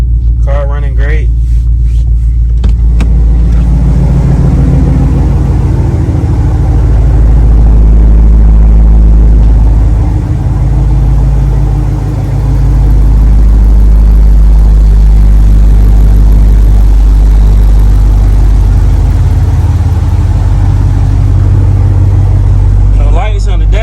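Dodge Charger R/T V8 idling after a 93 octane tune, a steady low rumble that holds through the whole stretch, loud and close, with a brief voice near the start.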